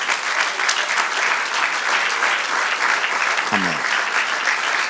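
A Spanish-speaking church congregation applauds during a service, with dense, steady clapping filling the room and a brief spoken word near the end.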